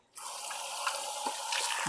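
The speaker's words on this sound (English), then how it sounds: "keep putting some hot water in here." Hot water gushes steadily from a tap into a sink or basin to soak needlework for washing, starting abruptly and running loud and close without pause, with no voices.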